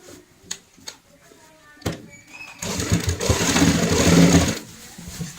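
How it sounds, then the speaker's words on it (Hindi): A sewing machine runs a steady whirring stitch along both sides of a narrow fabric fold, forming a drawstring casing for a cover on a stool made from an old bucket. Scattered clicks and handling knocks come first. "दोनों साइड में सिलाई लगाते हुए इस तरीके से बारीक फोल्ड करेंगे"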